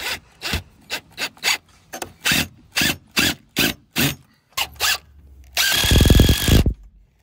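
A power drill driving screws into stall fronts on a farm, about a dozen short close bursts in quick succession, then a longer, louder whirring run at the end.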